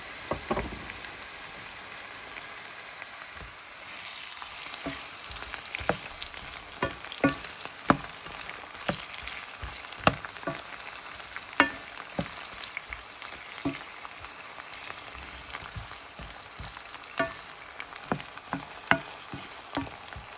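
Onions and chili frying in a pan for a merguez ojja, a steady close sizzle throughout with frequent sharp crackles and pops, no voices.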